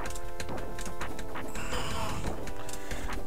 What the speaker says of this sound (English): You can hear me thumping away at the button.